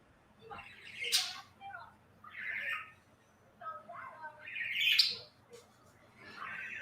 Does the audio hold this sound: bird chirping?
yes